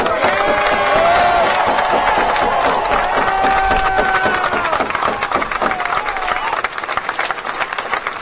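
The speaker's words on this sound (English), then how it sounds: "Let's give these ladies another round of applause." Crowd at an outdoor solidarity rally for justice applauding and cheering steadily, dense clapping with whistles and shouts filling the whole stretch, some voices in the mix.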